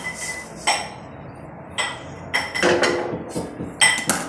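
Roasted ration rice, lightly browned for chakali flour, is scooped out of a pan with a few sharp metallic clinks and scrapes, spaced irregularly and close by.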